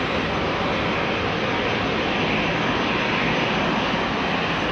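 Aircraft noise at London Heathrow Airport: a dense, unbroken engine roar at moderate loudness, steady from start to finish with no talk.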